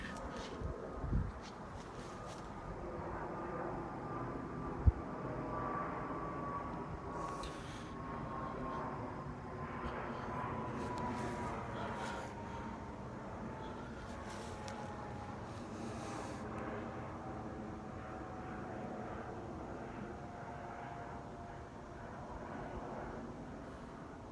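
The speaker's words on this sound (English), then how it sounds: "Here's a plane." An airplane passing overhead at night makes a faint, distant steady drone whose pitch slowly falls, with a single sharp click partway through.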